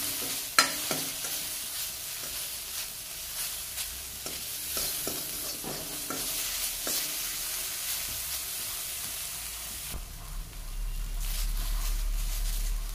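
Fish, singhi catfish, tossed with turmeric and salt in a hot pan, a steady close sizzle broken by repeated scraping knocks of the spoon, louder and denser toward the end.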